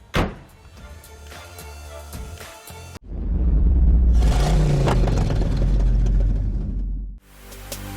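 Mazda BT-50 pickup truck on the road: a loud, steady engine and road roar fills the middle stretch, framed by quieter cabin moments and a thunk near the start.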